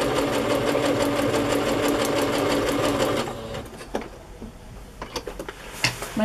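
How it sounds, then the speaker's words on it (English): Sewing machine running a basting stitch down the center of seam binding, loud and close with a fast steady needle chatter that stops partway, followed by scattered clicks and handling sounds. "I'm just using a basting stitch down the center so I can gather it."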